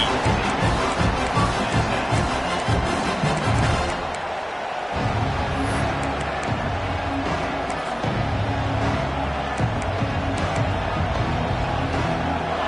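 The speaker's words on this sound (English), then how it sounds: "This crowd ready to make its presence known." A football stadium crowd roars steadily throughout, a dense, loud wall of cheering and noise at an LSU game, with the swell dipping briefly near the middle before building again.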